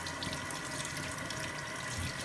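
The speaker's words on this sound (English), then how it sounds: "So I'm going to wash my hands" Tap water running steadily into a sink during handwashing, a close, constant hiss and splash with no talking over it.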